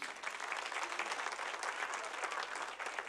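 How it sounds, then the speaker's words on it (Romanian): A congregation listening to a Christian sermon claps in a continuous, fairly soft wash of applause that holds evenly for a few seconds. "Aplauze pentru El."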